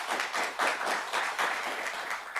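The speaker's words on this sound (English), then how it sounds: "give Jackie a round of applause" An audience in a city council chamber applauds at limited capacity, a modest group clapping with an uneven, pulsing rhythm throughout.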